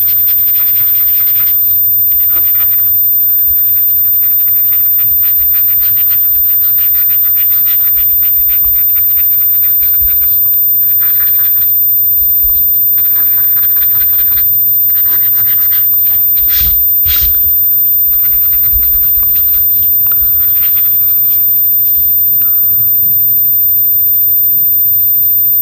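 A paintbrush scrubbing paint onto a painted bunny banner, a steady, dry rubbing and scratching of bristles going on continuously at close range, with brief pauses between strokes and no talk.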